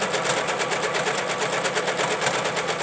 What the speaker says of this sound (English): I'm just going to stitch over a few times